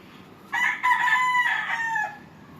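A rooster at a gamefarm breeding area crows once, a loud, close, drawn-out call lasting about a second and a half over faint background noise.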